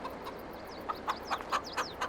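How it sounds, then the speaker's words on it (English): Farm chickens clucking in a small flock, several short squawks and clucks in quick irregular succession, close and clear over a quiet outdoor background with no one talking. "Let's check on these chickens and see what they got"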